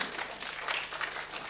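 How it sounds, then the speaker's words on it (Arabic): An audience claps in a dense, steady burst of applause, close and moderately loud, with no voices over it. "تصفيق تصفيق تصفيق تصفيق"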